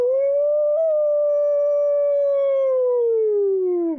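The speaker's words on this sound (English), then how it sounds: "we got to hear the howl one time before the stream, or before this game ended" A single long wolf howl from the 1995 video game The Beast Within: A Gabriel Knight Mystery, one clear sustained tone that slides slightly higher early on, holds steady for several seconds, then sinks and cuts off, loud and alone.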